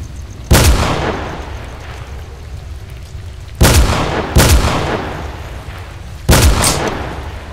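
A powerful gun fires in a video game: four loud, heavy booms, each with a long rumbling decay, with the middle two close together and the others spaced apart.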